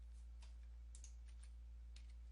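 Faint, sparse key clicks as a command is entered on a computer keyboard while fixing a Toshiba PC stuck in a boot loop, the taps scattered over a steady low electrical hum with no voice.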